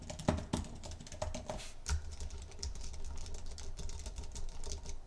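Quick typing on an iPad Pro Magic Keyboard makes a close, dense patter of soft, slightly damped key clicks, with a few sharper taps mixed in, and no talk over it.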